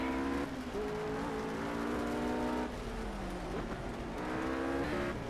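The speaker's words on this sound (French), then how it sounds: "Putain, j'ai une McLaren juste derrière moi." Engine of a McLaren race car in the Project CARS racing game: a loud, continuous, high-pitched engine drone that rises and drops with gear changes, with no talking.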